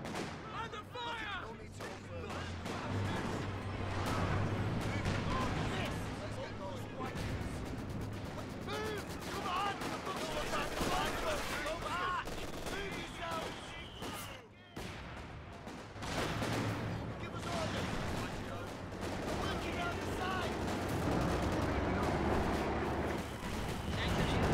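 Battle gunfire in Company of Heroes 2, a continuous din of rifle and machine-gun shots with heavy explosive thumps. It is loud and chaotic for most of the stretch, with a brief lull midway, and voices shout over it.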